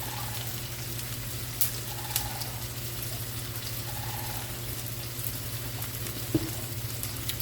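Food fries in grease on a Blackstone griddle, a steady close sizzle and crackle over a low hum from the burner, with occasional soft clinks.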